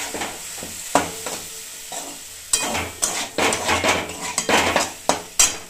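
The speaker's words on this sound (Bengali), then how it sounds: "যাতে সুজিটা ঝরঝরে হয় সেইভাবে আমি জলটা দিয়ে দিয়ে সুজিটাকে আমি সেদ্ধ করবো।" A spoon scrapes and clinks against a pan while semolina is stirred and cooked with water, with a soft sizzle underneath and irregular metallic taps growing busier and louder toward the end, no voices.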